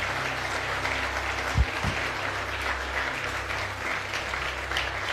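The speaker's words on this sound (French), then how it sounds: "Est-ce qu'on peut acclamer Jésus" Church congregation applauding, a dense, steady clapping from a crowd lasting throughout, with a couple of thumps early on and faint voices beneath.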